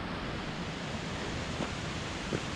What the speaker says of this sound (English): We're above the waterfall